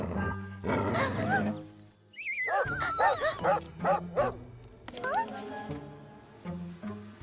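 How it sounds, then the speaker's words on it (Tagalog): A dog barks, yips and whimpers in a string of excited calls, with a voice speaking briefly at the start. "Oh, isang galit na aso!"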